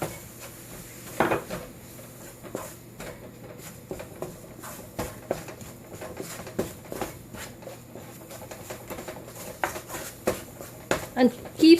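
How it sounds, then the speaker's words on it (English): Chocolate barfi mixture with milk and powdered sugar stirred in a pan, giving soft, irregular scrapes and light clinks of a spoon on metal under a person talking throughout. "And keep stirring it."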